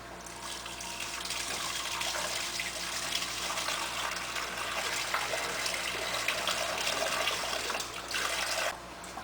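White grape must and juice poured slowly into a container, a steady broad gushing and splashing stream that runs continuously and fairly close, easing off briefly near the end.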